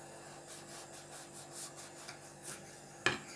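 A knife saws through a homemade microwave-baked shawarma with cheese: soft rasping strokes followed by a sharp click of the blade hitting the board, faint and close without talk.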